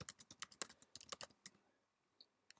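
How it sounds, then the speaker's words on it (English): Quick, faint clicking of keys on a computer keyboard, a burst of about fifteen taps over a second and a half, then a pause and two final isolated keystrokes, close and soft in a quiet room. "then we just type the name of the mass spec"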